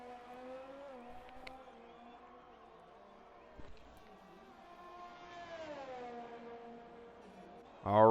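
A McLaren race car in a racing video game, its engine whining with a rising and falling tonal drone as it comes around, steady and moderately loud, a brief louder burst at the end.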